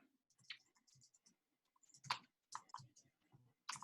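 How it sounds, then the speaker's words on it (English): Scattered keystrokes clicking on a computer keyboard in a quiet room, irregular and fairly soft, with short pauses between bursts of typing. "I can hear some typing"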